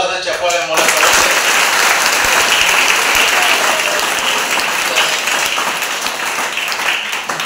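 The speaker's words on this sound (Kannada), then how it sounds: "ಒಮ್ಮೆ ಎಲ್ಲರೂ ಜೋರಾದ ಚಪ್ಪಾಳೆ ಮೂಲಕ" A large audience at a personality development programme in an academy hall breaks into loud, sustained applause that carries on steadily for about seven seconds after a brief spoken line.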